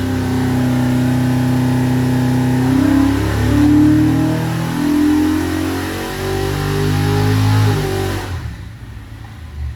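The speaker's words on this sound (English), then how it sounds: "So very, very snappy engine." A Windsor 347 cubic inch V8 producing 474 horsepower revs on a dyno, loud and close, its note rising and falling through several throttle blips before cutting off abruptly near the end.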